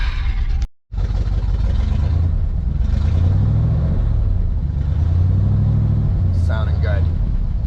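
A car engine idles while warming up, a low, steady chugging rumble close by with a brief dropout early on, and people talk over it.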